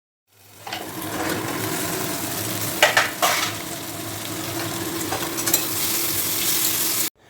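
Onion, ginger, garlic and potatoes frying with spices in a covered pan over lowered heat, a steady close sizzle with occasional spatula scrapes and pops, loud and unbroken, no voices.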